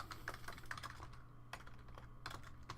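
Quick, irregular keystrokes on a computer keyboard while a short text is typed into a wiki editor, clicks fairly close and steady across the stretch, with no talking.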